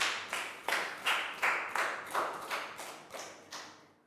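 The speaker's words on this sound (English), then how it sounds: "Big round of applause for Lakau." Classroom applause for a student during a Year 3 English phonics lesson: a small group clapping in about ten distinct, evenly spaced bursts, fairly quiet, each decaying quickly, with no talking.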